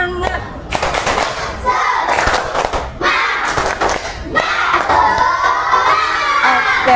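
A classroom of students performs a 'tepuk semangat' spirit clap, loud rhythmic bursts of clapping and thumping mixed with shouting and cheering voices.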